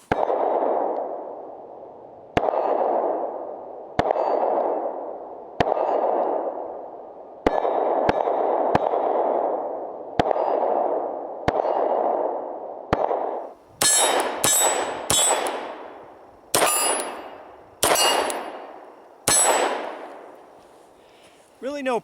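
Pistol shots from a Beretta Cougar striking steel targets at 7 and 25 yards, each sharp report followed by a ringing metallic clang, about a dozen shots in a measured rhythm, the later ones brighter and tighter.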